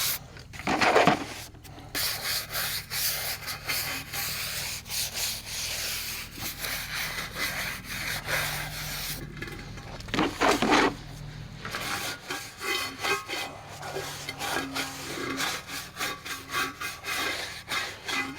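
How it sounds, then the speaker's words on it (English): A rag or pad scrubs grease off a wheel in repeated rubbing strokes, close and fairly quiet, a dry scraping rhythm with brief pauses between passes. "I'm just going to go over the whole wheel and just clean the grease off"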